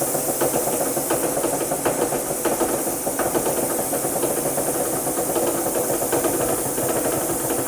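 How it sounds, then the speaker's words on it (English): Air hissing steadily out through a slow Schrader valve on a Tacoma, a loud continuous bright hiss that holds an even level throughout, alone with no talking. "Nothing like a slow Schrader valve."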